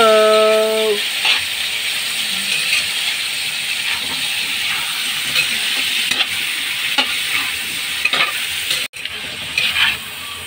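Squash and string beans go into crab simmering in coconut milk, with a loud, steady sizzle and hiss and occasional stirring scrapes.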